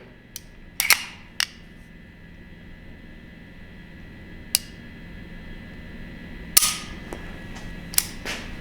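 Beretta 92X pistol trigger being pulled and reset several times, sharp isolated mechanical clicks spaced irregularly over a faint quiet background, with no talking.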